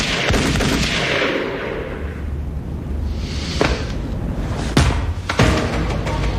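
A loud gunshot cracks out in a scene from the TV series Code Name: Eternity, followed by another sharp report, over a dense rumbling action-scene backdrop with no talk.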